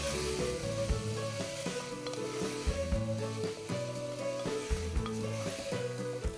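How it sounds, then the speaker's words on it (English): Onions browning in a pan over a slow flame, a steady sizzle with repeated scraping as they are stirred and turned, fairly loud and continuous with no talking. "we need to brown these onions. So I'm going to do that on slow flame, turning it around"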